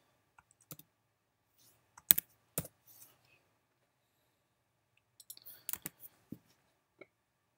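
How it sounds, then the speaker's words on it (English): Keystrokes on a computer keyboard while typing a list, heard as sparse clicks: a few light taps, a sharp pair near the middle, then a quicker cluster of clicks toward the end with silence between. "I'm going to just hit return as I type my list"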